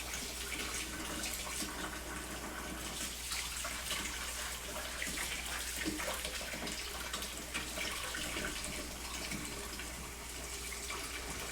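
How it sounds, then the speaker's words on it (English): Hot water runs steadily from a kitchen tap over pumpkin seeds being rinsed of pulp, a continuous broadband splashing rush that stays even and close throughout with no talk. "I'm gonna run some hot water over this."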